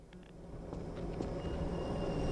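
A train in Half-Life 2 rolls into a station, a low steady rumble that swells gradually as it nears, with faint metallic squeals and clanks on top, no voices.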